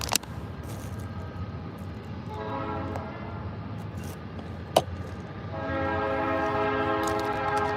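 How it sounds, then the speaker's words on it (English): A train passes with its horn sounding in long steady blasts, one starting midway and another swelling louder toward the end over the rumble of railroad cars, with a sharp clank in between. "That stupid train."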